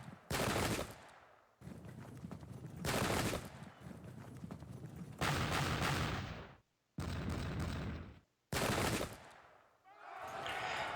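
Repeated musket volleys in the video game Pike and Shot, loud crashing bursts of massed gunfire arriving in separate waves, each lasting about a second or more and fading before the next.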